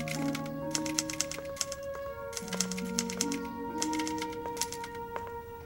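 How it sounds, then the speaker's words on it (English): A typewriter clacks in quick irregular bursts of keystrokes, fairly close but quiet, under a sustained musical background with no talking. "What is that you're typing?"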